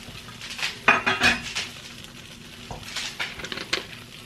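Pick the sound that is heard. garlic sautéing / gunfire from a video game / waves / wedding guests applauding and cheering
garlic sautéing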